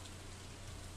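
Rain falling in Stardew Valley, a soft, even hiss of steady rainfall, quiet and continuous with no one speaking.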